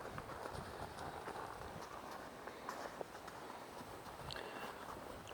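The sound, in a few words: horse hooves walking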